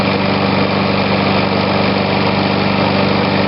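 An old Snapper push mower's small engine runs steadily and loud up close, a strong continuous buzzing drone that holds even throughout without any speech.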